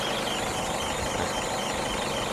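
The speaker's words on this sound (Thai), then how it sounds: "ฟังข้างในก็ฟังข้างนอกดูครับว่าเสียงเครื่องเป็นยังไง" A 2014 Isuzu D-Max single-cab pickup engine idles, a loud, steady mechanical rumble and clatter heard up close without any talking.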